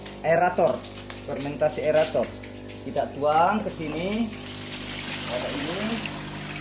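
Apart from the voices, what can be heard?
pouring aerated fermentation liquid into a container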